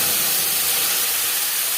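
Tomato and green chilli paste hits hot oil with black cumin in a kadhai, giving a loud, steady, close hissing sizzle that fills the whole moment without pause.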